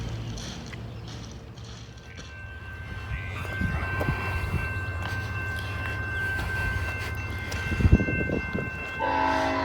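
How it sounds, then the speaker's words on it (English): Norfolk Southern mixed manifest freight train passing nearby, a heavy rolling rumble of cars building over several seconds with a sustained horn blast and rattling clatter, loud and close. "got a Norfolk Southern mixed manifest coming here"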